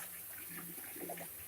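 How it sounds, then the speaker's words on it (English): Bleach mixed with water is dumped out during dishwashing, making a soft, continuous pouring gush that stays fairly quiet and steady throughout, with no speech. "And now we dump the bleach."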